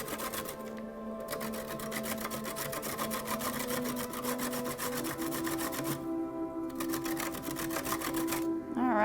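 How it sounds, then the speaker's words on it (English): Carrots are grated for a low-carb carrot cake. A steady, close mechanical rattle with a fine repeating texture runs throughout, broken by two brief dropouts. "So now we want to grate those carrots."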